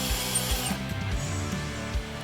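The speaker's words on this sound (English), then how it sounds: "You need a really sharp drill bit and the correct speed and pressure behind your drill." Power drill biting into a stainless steel exhaust manifold for a 3800 V6 with a dull bit, giving a rough grinding whir with pulsing pressure changes, close up and fairly quiet.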